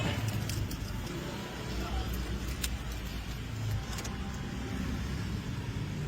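A Ford EcoSport, its engine and transmission freshly overhauled, starts and runs with a loud, steady close-up rumble and roar that holds without pause throughout.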